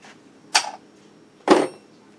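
Two sharp metallic clicks about a second apart, close and fairly loud, as an Army Guy bottle opener pries the cap off a bottle of Surly Furious black IPA.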